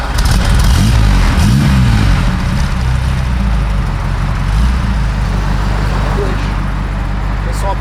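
A Ferrari engine is given a bit of throttle, its low, steady rumble filling the space up close, with a voice speaking briefly over it.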